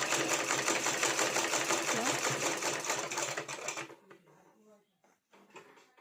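Sewing machine stitching piping onto a blouse, a dense steady mechanical whir of rapid needle strokes for about four seconds, close and loud, then stopping abruptly, followed by a few faint handling sounds.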